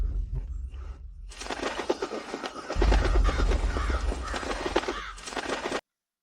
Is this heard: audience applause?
no